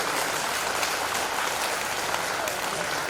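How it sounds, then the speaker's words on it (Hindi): An audience at a Shrimad Bhagavat Katha gathering in Rohtas, Bihar, claps in a dense, continuous wash of applause, steady and moderately loud for the full stretch, with voices faintly mixed in. "इसलिए भाई लोग भी अपना ताली बजाते हैं।"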